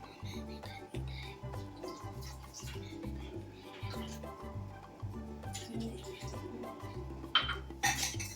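Milk and sugar whisked in a metal pot, a steady rhythmic clatter of whisk against the pot sides running throughout, close and moderately loud, with a few sharper clinks near the end.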